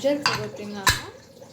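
A pressure cooker lid is closed, two sharp metallic clanks with ringing pot-and-lid resonance, close and fairly loud, with faint background sound between them.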